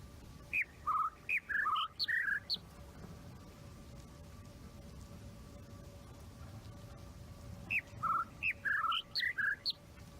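Bird calls in the video game The Witness: two bursts of bright, chirping, whistled notes, each a quick cascade of several calls, separated by a quiet stretch of low ambient hum.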